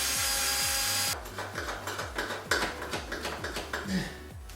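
Power tool driving out screws with an 8mm socket during an EJ22T engine removal from a Subaru Legacy Turbo, a loud whirring burst followed by a series of rhythmic ratcheting clicks and taps close by.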